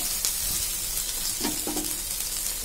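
Cumin seeds crackle in hot oil with onion added for a pumpkin curry, a soft continuous sizzle with a few light stirring scrapes.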